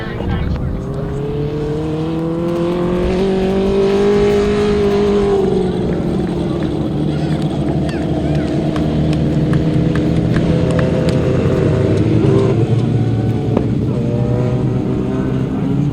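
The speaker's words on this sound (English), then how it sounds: "Race 21, Heat 3 of the Sidecars, third leg, a win for number 48, Rod and Tristan Winterburn." Sidecar motorcycles race around a grasstrack at the 2004 British Masters, their engines droning and rising and falling steadily throughout, with a commentator's voice heard over the racing.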